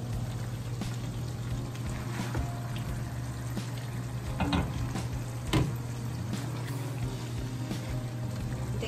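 Mustard and poppy seed beef curry stirred in a pot, with a soft bubbling simmer and a low steady hum under occasional scrapes and knocks of the spoon, fairly quiet and close, no voices.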